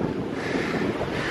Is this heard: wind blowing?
yes